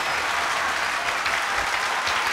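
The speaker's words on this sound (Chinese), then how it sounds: "掌声鼓励" A studio audience at a televised talent show claps steadily and loudly, a dense wash of applause throughout with no voices standing out.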